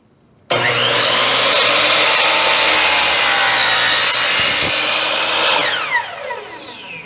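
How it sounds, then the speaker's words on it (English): A hand saw cuts through wooden baseboard molding in one long, loud, steady rasping stroke sequence lasting several seconds, then trails off into quieter scraping. "I turn the saw the other direction and make my cut"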